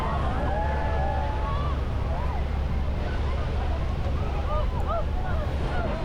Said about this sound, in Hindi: तेज़ हवा चल रही है और वो उसके अंदर वो मिस्ट की बारिश जो है वो हमारे ऊपर आ रही है